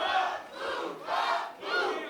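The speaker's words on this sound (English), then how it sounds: "as the crowd cheers for Bufa, the ire for the fans grows in Thomas" A wrestling crowd at a Limitless Wrestling show cheers and roars in swelling waves. Three or four loud surges of massed voices fill the clip, with no clear talk over them.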